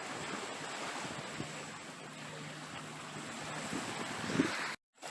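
Surf washing onto the beach at Chesapeake Bay near an inlet, a steady broadband wash with wind buffeting the microphone throughout, ending in a brief dropout.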